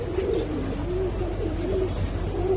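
Pigeons cooing in a loft, a steady series of soft, rolling coos repeating every half second or so, fairly close, over a constant low background hum with no talk.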